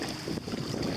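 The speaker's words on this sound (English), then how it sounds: "we have a nice sailing breeze here on the Charlotte Harbor crossing" A sailboat crosses Charlotte Harbor in a steady breeze, with continuous wind rush and water noise around the hull and buffeting on the microphone throughout, and no voices.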